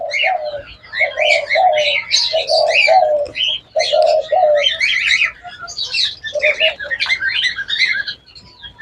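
A dove coos loudly and close by in repeated rhythmic phrases, with other birds chirping and twittering alongside.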